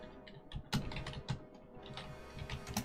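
Computer keyboard typing, fast irregular key clacks with a few louder strikes, close and clear with no talking.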